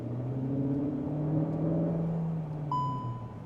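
A Cupra Terramar 272bhp plug-in hybrid engine hums at a low, steady, moderate level from inside the car, and a brief electronic chime sounds near the end.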